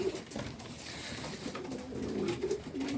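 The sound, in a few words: homing pigeons cooing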